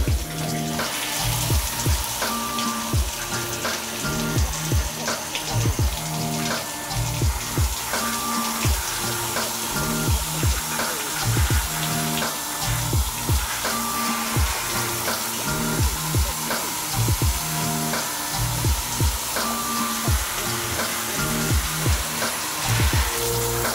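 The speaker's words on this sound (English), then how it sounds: "This is how I water my big plants." A bathtub faucet runs steadily to water large houseplants, the continuous splashing and gushing of water joined by rhythmic clattering and knocking throughout, with no talking.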